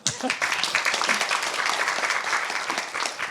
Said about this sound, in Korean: 격려의 박수 한번 해주세요.